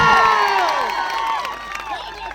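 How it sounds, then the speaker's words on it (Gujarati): A crowd at a political rally in Dediapada cheers and applauds loudly, with whistles and shouts sweeping over dense clapping that gradually eases off. "આજે ડેડિયાપાડા અને શાકબારા જનતાને તમે તાળીઓથી વધાવી દો"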